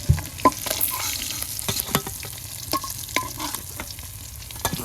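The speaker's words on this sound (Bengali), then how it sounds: "একেবারে কড়া তড়া করে মাছ ভাজিয়ে নিচ্ছি লাল লাল করে" Tilapia frying in oil with a soft crackling sizzle, broken by frequent clinks and scrapes of a utensil moving in the pan.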